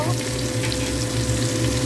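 Ground cumin and other spices fry in hot oil for a fish curry, giving a steady, close sizzle that runs throughout with a low kitchen hum beneath it.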